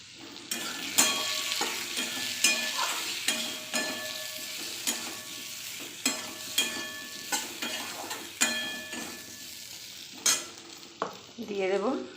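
Coriander and turmeric powder being stirred into a hot frying pan for a Bengali fish curry with ridge gourd, with repeated scraping strokes of a spoon over a continuous sizzle and a short bubbling burst near the end.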